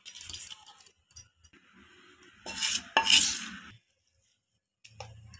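Stirring jackfruit seed chutney into a turmeric and asafoetida tempering in a pan, heard as close, irregular spoon clinks and scrapes that swell into a louder burst of metallic scraping before fading to near silence.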